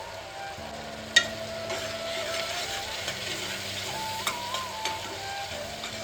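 Spice masala and chopped tomatoes sizzling in hot oil in a pan, a low steady fry with scattered sharp scrapes and taps of a spoon stirring, close and alone without talk.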